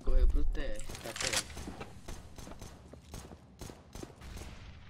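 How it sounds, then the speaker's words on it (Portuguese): Glock pistol shots ring out in the video game CS:GO, with a cluster of sharp, quick bursts at the start followed by scattered lighter hits, while voices murmur underneath. "Levou 3 tiros de Glock."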